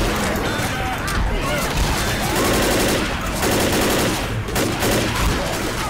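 Rapid bursts of gunfire in the zombie game Left 4 Dead crackle continuously, dense and loud, with a voice talking over the shooting.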